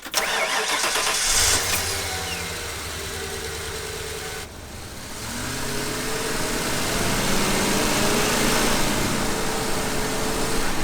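A Ford E-350 Econoline van with a lean-running engine starts and pulls away, its mid-pitched engine note rising steadily as it accelerates, loud and close with no talking.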